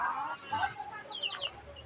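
Several chickens cluck and chatter softly at moderate distance, short overlapping calls over a low background hum.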